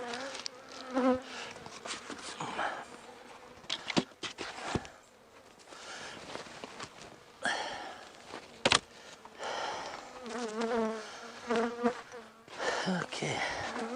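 Honey bees buzz close around an open hive in winter, with a winter patty laid on it. Their droning rises and falls, joined by scattered handling bumps and soft movement nearby.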